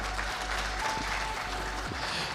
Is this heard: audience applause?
yes